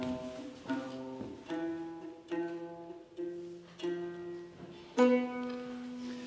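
Notes of the ancient Greek Mixolydian mode, some a quarter tone apart, played one at a time as sustained tones, roughly one every second, with a louder note at the end.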